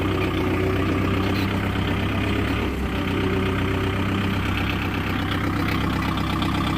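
A 2024 Kubota MU4501 tractor's heavy diesel engine idles steadily and close by, a continuous low rumble with no talking over it.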